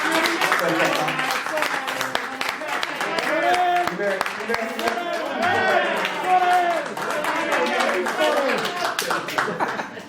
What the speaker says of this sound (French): applaudissez Sorel qui représente Werason